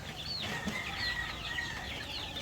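Young breeding chicks, grown fairly large, peep steadily while being fed in the afternoon, with many high, thin chirps overlapping in a busy chorus close by and no talking.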